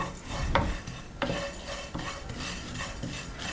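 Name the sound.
vermicelli being roasted in a pan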